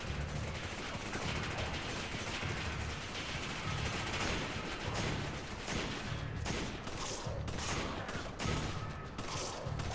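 Dense, continuous gunfire in the video game Resident Evil 5, rapid overlapping shots and bursts that stay loud and steady for the whole stretch with no pauses.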